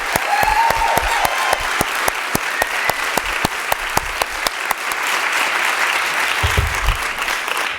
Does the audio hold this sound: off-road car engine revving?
no